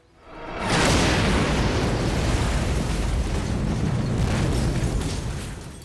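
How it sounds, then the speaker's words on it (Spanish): A heavy explosive charge goes off in a sabotage demolition and then a loud, sustained roar and rumble that fills several seconds before slowly easing. "capaz de generar una fuerte explosión"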